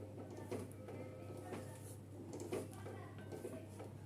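A spoon scrapes and clinks against a pot while fried spice powder is stirred into mango chutney made with jaggery, producing soft, irregular metallic scrapes and taps at close range over a faint steady hum, with no talk.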